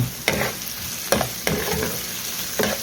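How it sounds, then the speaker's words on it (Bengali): Garlic and onion sizzle in hot oil for a tempering for dal with spinach. Four distinct stirring scrapes cut through the steady frying hiss, close up and with no voices. "এখন রসুন দিলাম, বাগার রসুন, রসুন রে আর পেঁয়াজ রে"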